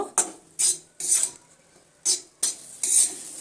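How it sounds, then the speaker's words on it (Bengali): Semolina roasting in ghee in a pan for a spicy sooji dish, stirred with a spoon in six separate scraping strokes, each a short dry rasping sweep with quiet gaps between them, close and clear. "ঘিটা দিয়ে সুজির সঙ্গে আবারও মিনিট দেড় মতন এইভাবে ভেজে নেব"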